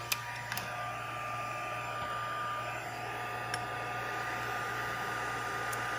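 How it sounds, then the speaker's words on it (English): A heat tool blows hot air onto shrink plastic for a craft charm, producing a steady, fairly quiet airy whoosh with a constant hum, interrupted by a few faint clicks. "let's turn on the heat tool"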